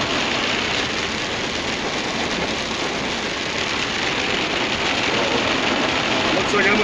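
Heavy rain pours down steadily around a vehicle, a dense, loud, continuous hiss with no breaks.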